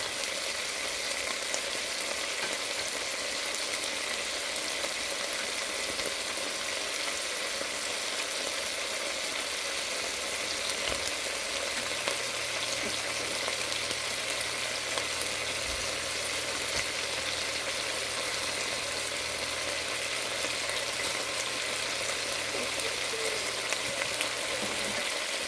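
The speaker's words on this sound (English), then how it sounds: "cook it for another probably 7 or 8 minutes, and let the meat continue to brown and the carrots begin to soften" Sausage and carrots fry and brown in a pot for a cold-day tomato and kale soup, giving a steady, continuous close sizzle with no talk.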